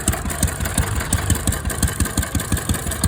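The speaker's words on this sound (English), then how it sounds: "This is Cat's smallest engine built ever, and only gas air-cooled engine produced." Caterpillar's smallest engine, its only gas air-cooled model, runs at a steady idle with a loud, even chugging pulse of regular firing beats and a constant mechanical hum.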